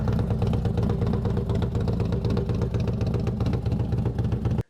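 Harley-Davidson M8 touring bagger with its exhaust baffles removed, idling with a steady, loud, deep, lumpy rumble that keeps going close up until it cuts off abruptly at the end.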